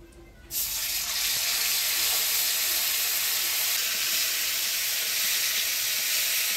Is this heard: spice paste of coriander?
yes